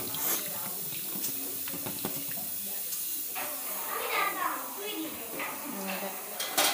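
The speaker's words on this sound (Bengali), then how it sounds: "এখন সব পেঁয়াজ রসুন আদাগুলিকে আমরা ভালো করে ধুয়ে নেব।" Onions, garlic and ginger are washed by hand in running water, with splashing and tap flow heard close up while a person talks over it.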